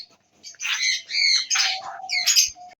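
Pet birds for sale, lovebirds and cockatiels among them, give loud, harsh squawks and shrill calls in quick overlapping bursts, close by, with no talking.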